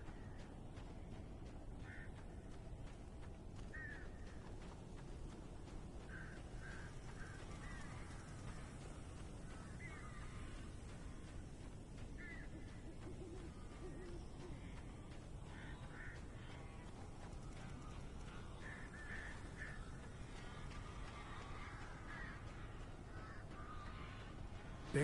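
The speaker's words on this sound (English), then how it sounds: "Those might be phantom crows, who knows?" Crows in the video game Alan Wake Remastered caw repeatedly in scattered bursts at a distance, faint over a constant low ambient rumble for the whole stretch.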